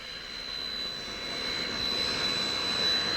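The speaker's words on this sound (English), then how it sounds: "they travel with their own jet, waiting at the airport" A jet aircraft sits at Tampa International Airport with its engines running, giving a steady, loud roar topped by a thin high whine that slowly swells, with no voices.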